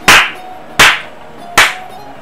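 Three sharp, loud hand claps sound alone at a slow, even pace, each separated by a brief pause.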